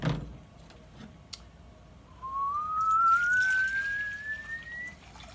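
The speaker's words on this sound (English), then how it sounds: "And I'm going to pour it into this bowl here." A liter of water is poured into a bowl, giving a faint, quiet liquid trickle with a rising whistle-like tone over about three seconds, with no speech.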